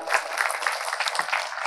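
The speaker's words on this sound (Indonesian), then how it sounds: "tepuk tangan buat Mas Pram." Audience applause at a Kenduri Cinta community forum gathering, steady dense clapping from a crowd that holds at an even level throughout, with no voices over it.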